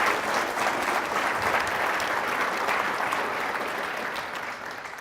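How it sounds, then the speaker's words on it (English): An audience at a city's State of the City address applauds the fire chief, producing a full, steady roar of clapping that tapers off slightly toward the end. "please stand for a round of applause"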